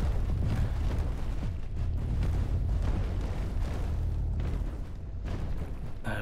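Wooden and stone structures snapping, cracking and collapsing in the destruction game Instruments of Destruction, a dense continuous roar of rumbling breakage with repeated heavy crunching bursts throughout.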